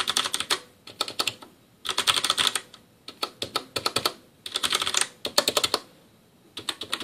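Keys clacking on a mechanical gaming keyboard, with rapid bursts of crisp typing separated by short pauses, close and loud with no voices.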